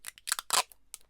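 Tape is torn and pulled apart while making faux glassine at a craft table, a string of short, sharp, close ripping bursts with brief pauses between them and no talking.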